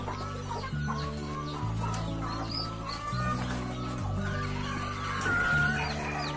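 Country chickens on a poultry farm cluck steadily and close by after feeding, with overlapping calls over a constant low background hum.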